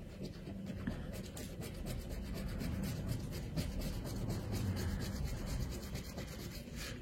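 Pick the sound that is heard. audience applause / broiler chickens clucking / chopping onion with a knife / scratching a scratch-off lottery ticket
scratching a scratch-off lottery ticket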